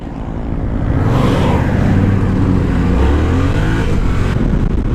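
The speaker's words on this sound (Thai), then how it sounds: "อยากรู้จังว่ารอบต้นมันดึงแค่ไหนแบบถ้าออกเกียร์หนึ่งนะ เดี๋ยวลองดูดีกว่า" A pickup truck with a CP2 engine accelerates hard from a start in first gear, a loud, sustained engine roar that climbs steadily in pitch and stays close and full throughout, with no talk over it.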